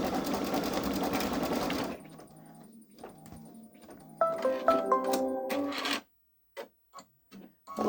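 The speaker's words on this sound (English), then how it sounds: "it looks like it is going right over the dot it sewed there" A Babylock Solaris Vision embroidery machine stitches a design, loud and steady at first, then quieter mechanical running with a few brighter clattering bursts before it stops and leaves only short isolated knocks.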